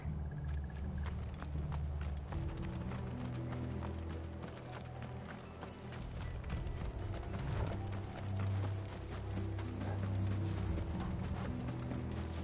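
Horses gallop in Final Fantasy XVI, a steady dense clip-clop of hooves running continuously alongside game rumble and ambience, with no pauses through the stretch.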